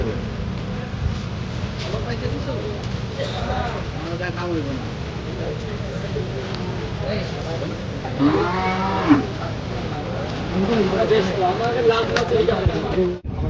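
Cattle low several times amid a busy, noisy crowd at an outdoor cattle market, the moos rising over steady background chatter and people talking nearby.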